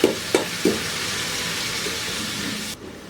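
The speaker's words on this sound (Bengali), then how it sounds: "এর মধ্যে এখন আমি ডালগুলোকে দিয়ে একটু ভেজে নিব এর সাথে" Lentils frying with onion and garlic in a pan, a steady sizzle and hiss broken by a few sharp stirring scrapes near the start, then cutting off abruptly near the end.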